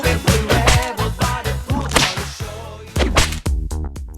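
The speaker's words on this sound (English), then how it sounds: "The crisp sound of the leather whip is serenaded by a burst of ecstatic shrieks" Leather whip cracks in the video game Path to Nowhere, a rapid series of sharp, loud snaps in uneven rhythm, close and dominant with tonal game sounds ringing underneath.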